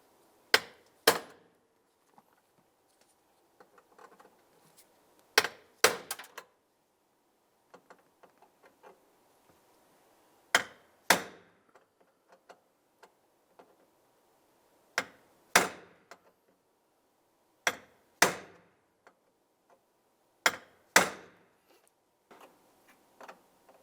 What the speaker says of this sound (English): We'll continue with our hammer and punch to drive these out.